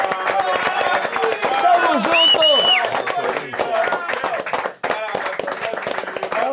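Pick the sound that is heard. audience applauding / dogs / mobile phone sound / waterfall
audience applauding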